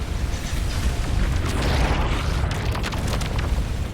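Missile explosions in the space game Starcom, a dense run of deep booms and rumbling blasts rolling one into another at steady loudness, with crackling bursts on top and no voices.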